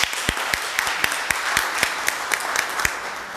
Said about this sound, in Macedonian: На тоа еден голем аплауз.